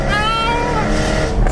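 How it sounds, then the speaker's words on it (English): A loud, revving 2014 Jaguar F-Type engine with exhaust baffles opened, a throaty, raspy exhaust note, its pitch sweeping and wavering as the throttle is worked. "that exhaust back there, if you push this little button that opens up the baffles"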